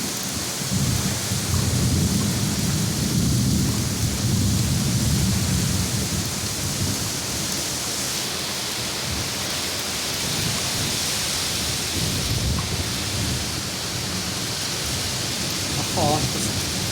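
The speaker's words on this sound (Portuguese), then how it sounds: "Uma hora da manhã, chuva em Manaus. Ó, temporalzão," A heavy nighttime rainstorm in Manaus roars without a break, dense rainfall with deep rolling thunder rumbling underneath, loud and enveloping throughout.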